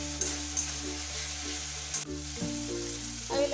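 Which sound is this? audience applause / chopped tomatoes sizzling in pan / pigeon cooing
chopped tomatoes sizzling in pan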